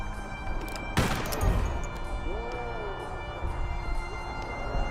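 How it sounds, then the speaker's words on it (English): A sharp, loud gunshot cracks once in the video game Grimshade and then rings out, followed by softer clattering and low rumbling battle noise that fades over several seconds. "So let's go ahead and shoot him one more time"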